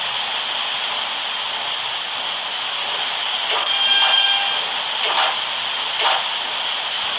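R160 subway train on the H shuttle in the Hmmsim simulator game, a steady hissing electric hum with a few brief clanks and a rising whine partway through.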